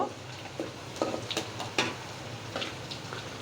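Whole garam masala of cardamom, cloves and cinnamon sizzles in foaming mustard oil as it is lightly stirred, a soft bubbling hiss broken by a few quick scraping ticks, with no voices.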